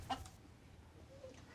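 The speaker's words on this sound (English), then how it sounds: "Miriam Kannegeeter is terrified of chickens" A chicken gives a brief cluck near the start, then only faint background noise with a soft later call; quiet and close.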